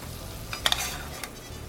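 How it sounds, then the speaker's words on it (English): String beans stir and sizzle in a pan, with a few soft scraping clinks of a utensil over a quiet background. "We're gonna saute it up a little"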